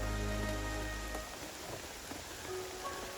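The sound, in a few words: rain falling on tarp at campsite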